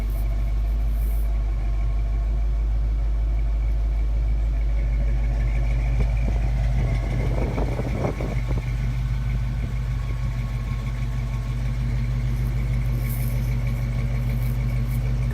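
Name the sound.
1968 Ford Mustang 289 engine idling with Thrush exhaust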